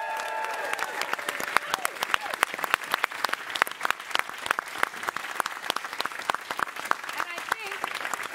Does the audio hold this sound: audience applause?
yes